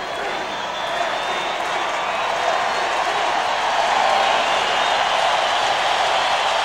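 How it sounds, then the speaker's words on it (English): A stadium crowd at a 2003 Wild Card NFL playoff game, Broncos at Colts, roars and applauds in a steady, loud wall of cheering and clapping that swells slightly and holds for several seconds. "One last tribute from the crowd."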